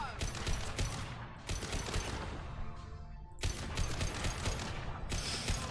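Gunfire in the video game Mass Effect 2: dense, rapid bursts of shots that nearly fill the whole span, pausing briefly in the middle before resuming, loud and continuous with faint game sounds beneath.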